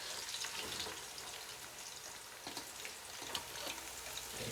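Spices and chillies for a Manchurian dish sizzle in hot oil in a steady, crackling hiss that stays even and fairly faint throughout.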